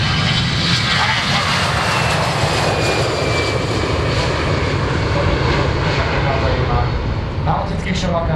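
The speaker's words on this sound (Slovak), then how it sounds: "zmena klapiek do vzletu, naberanie rýchlosti a vzlet." A Slovak Government Airbus A319 jet taking off at the Piešťany air festival, engines roaring loud and steady with a rising whine as it gathers speed, a voice talking over it.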